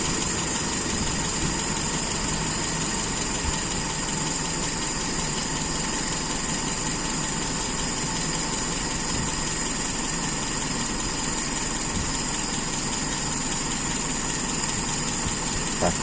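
A motorcycle engine idles steadily while its carburetor idle is adjusted, a loud, even, continuous hum with no change in revs.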